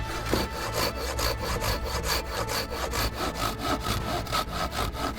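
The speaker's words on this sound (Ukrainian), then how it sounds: "Намагаємося пиляти рівно по лінії." A hand saw cuts along a marked line in wood, giving a steady run of rhythmic rasping strokes, about three per second, close and loud with no talking.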